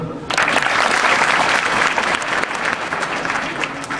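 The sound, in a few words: applause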